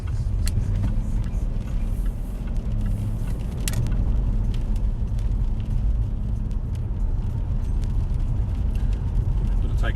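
A Jaguar XK 5.0 Portfolio coupe's V8 rumbles steadily while driving, a low, continuous engine drone running beneath someone talking.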